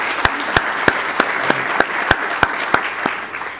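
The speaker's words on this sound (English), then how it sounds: "So let's give them a round of applause." An audience claps at an executive speaker series talk, a steady patter of applause with distinct sharp claps standing out near the microphone, tapering off at the end.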